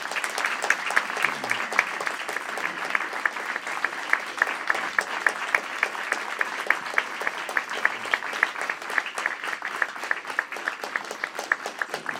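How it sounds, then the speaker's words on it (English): A respectful audience at a state senate district debate applauds the candidates with sustained, even clapping for about twelve seconds, full and steady without pause, with faint voices underneath. "You're going to applaud now for our candidates?"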